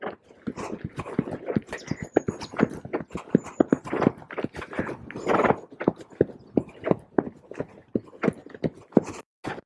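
Hooves of a ridden horse in an arena clip-clop in a steady, uneven rhythm of sharp, close thuds through the whole stretch, with a brief faint whinny-like tone early on.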